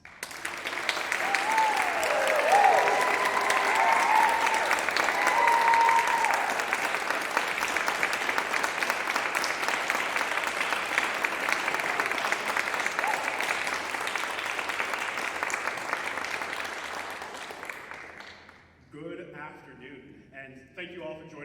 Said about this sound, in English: if you wouldn't mind just welcoming Trevor with some applause